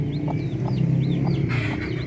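A Darag native hen clucks in short, repeated bursts over a steady low background hum, close by, with faint chirps of chicks.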